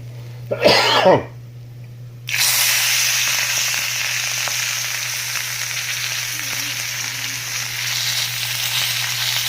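Tulingan (bullet tuna) frying in a pan: a short throat-clear-like noise, then a loud, steady, close sizzle that starts abruptly and continues to the end.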